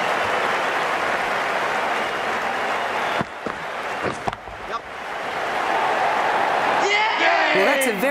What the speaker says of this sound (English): The crowd are loving this.